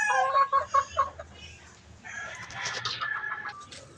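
Milsim Black chickens, a newly bred line, crow and cluck close by in a few sharp, rhythmic calls, then give way to a softer, busier stretch of overlapping fowl noise.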